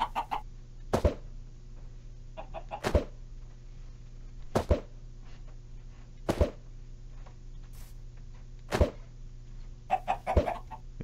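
Clucking chickens in the video game Minecraft, a series of short, sharp clucks spaced every second or two over a quiet, steady background hum, faint and without any talking.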